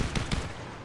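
Two quick gunshots crack close together in the Fortnite video game, then fade into a short, rough tail.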